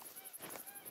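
Geese in the hunting game The Hunter: Call of the Wild honk softly in the distance, a faint, scattered chatter of calls running steadily through the second.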